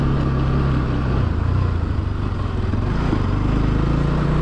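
A custom naked sport motorcycle idles steadily on a rough off-road track, its low engine rumble constant and close for the whole stretch, with no one talking over it.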